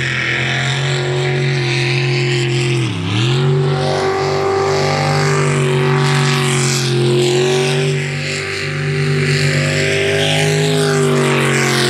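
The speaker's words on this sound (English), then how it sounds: "Here's our last boat out in the modified class in this third qualifier." A modified-class race boat runs past in a qualifier heat, its engine a loud, steady drone that dips in pitch as it passes close, then holds a high whine as it continues, with no talk over it.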